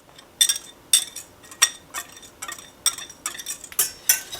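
A utensil stirs flour into melted butter in a pan over low heat, giving sharp metallic clinks and scrapes in an uneven rhythm, close by with no talking.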